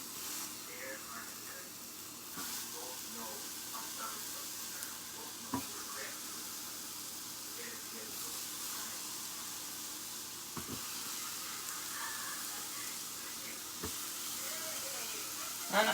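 Halved peppers frying cut side down in a hot pan, giving a steady broad sizzle and hiss throughout with a few faint clinks and taps.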